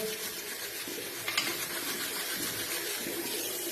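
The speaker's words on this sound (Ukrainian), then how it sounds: "Добре промили під проточною водою." Steady broadband rush of tap water running over a thermos rod as it is rinsed clean, continuous and fairly close, with a brief louder splash midway and no talking.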